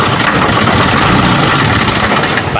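An Isuzu 4HL1 diesel engine running, a loud, rough, steady idle heard up close with no one talking.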